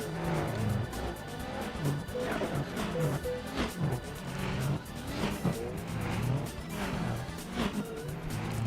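Race cars lapping in Gran Turismo 4, with steady engine drone and repeated tire squeal and passing swells throughout, loud and continuous with no talking.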